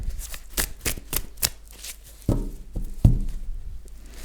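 Tarot-style cards are shuffled in a card reading, with a quick run of crisp riffling flicks followed by a few sharper taps and thumps as cards are drawn and laid down, close up with no talk.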